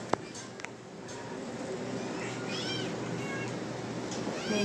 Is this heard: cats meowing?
yes